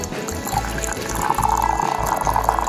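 Hot water poured into a teapot, a close, continuous splashing and filling sound that grows fuller and brighter as the pot fills, with no talk.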